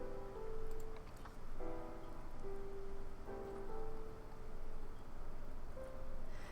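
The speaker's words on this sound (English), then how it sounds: "after it got dark, the rain started up again" Steady rain falls across a nighttime zoo in Planet Zoo, a constant soft hiss of drops on surfaces with a few faint tonal game sounds drifting above it; no talking.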